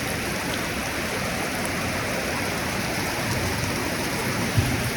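Steady rain falls in a continuous broadband hiss at moderate loudness, with no talking and one brief louder tick near the end.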